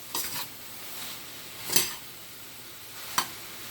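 Fried gongura leaves being stirred into a vegetable biryani mixture in a pot, with soft scraping and a faint sizzle throughout and three louder ladle scrapes and clinks against the metal, without talk.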